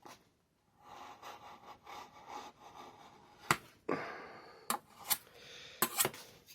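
An Elmax steel knife with a saw-like serrated edge cuts through felt and aluminium, giving repeated rasping, scraping strokes with a few sharp loud snaps near the end, close and without talk.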